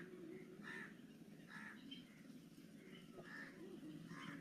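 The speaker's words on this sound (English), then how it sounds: "crowing of the crows, I wanted to say" Crows caw repeatedly in faint, distant bursts over a steady low background rumble, with a few other birds at a riverbank setting.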